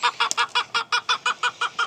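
A bearded hen clucks in a brood pen, a rapid, evenly spaced series of about a dozen close, clear clucks with no other sound.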